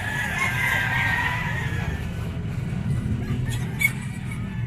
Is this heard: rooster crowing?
yes